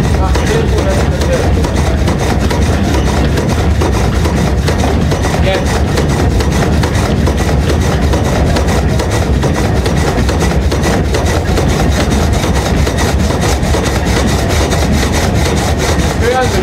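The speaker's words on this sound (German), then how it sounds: "Hören Sie schon, dass die Säge an sind zu arbeiten." A historic water-powered frame saw at a working sawmill cuts through a log with a steady, continuous rasping and rumbling drone, loud and close, with faint machinery hum beneath and no break throughout.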